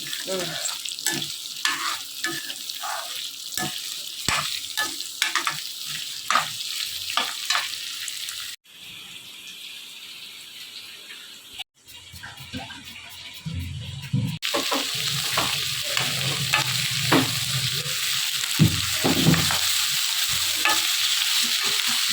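Cinnamon, cloves and cardamom fry in hot oil for a curry, hissing and sizzling steadily close by, with stirring clatter throughout and a brief muffled pause partway.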